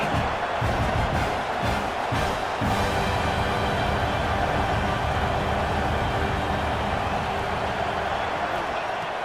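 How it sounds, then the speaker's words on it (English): Roaring football stadium crowd building noise to urge the home defense toward a red zone stop, a dense, steady wall of cheering that stays loud throughout, with a few lower thumps early on. "here comes the noise. This crowd is trying to inspire this defense to make a big red zone stop."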